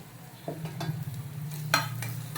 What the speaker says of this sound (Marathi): आपण हे सगळं एकसारखं परतून घेऊया मसाले तेलामध्ये